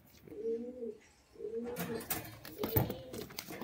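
A male pigeon coos in two or three low, rolling phrases close by. Quiet shuffling and rustling come in during the later part.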